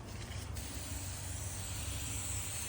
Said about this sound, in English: we're gonna spray paint the web that we found over here